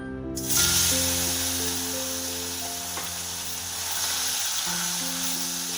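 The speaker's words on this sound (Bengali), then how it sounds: "এবারে আমি যে মাছগুলো নুন হলুদ মাখিয়ে রেখেছি সেগুলো অল্প অল্প করে ভেজে নেব" Small salted, turmeric-rubbed mourola fish drop into smoking hot oil for a Bengali chorchori, setting off a sudden loud hiss that settles into steady close sizzling over a faint tonal melody, with no speech.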